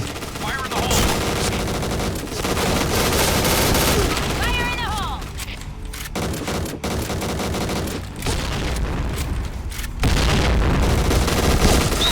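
Dense gunfire from the online shooter Point Blank, bursts of automatic fire and explosive booms filling the mix almost continuously, loud and close, with brief gaps between volleys.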